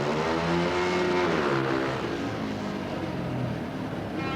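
Speedway motorcycle engines rev hard and continuously at practice starts at a 1990 Bradford final meeting, a loud droning roar with rising and falling pitch and no talk.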